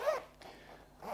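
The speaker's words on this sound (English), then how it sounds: "Now it has a popper with a long zip" A long zip on motorcycle adventure rider trousers is pulled in a short, close rasping burst at the start, then a second pull at the end after a quieter gap.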